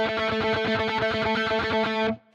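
Electric guitar with distortion picking continuous 16th notes at a steady mid tempo, dense even attacks up close, ending abruptly with a short fade.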